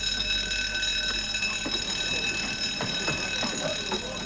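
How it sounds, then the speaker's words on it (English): A ship's alarm bell rings continuously and loudly on board, a steady metallic clangor with a few faint knocks and movements underneath. "that is the alarm bell, which you all heard. There is no other bell like it on board."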